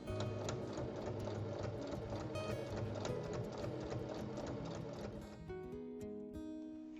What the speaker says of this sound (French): on va faire maintenant une surpiqûre de chaque côté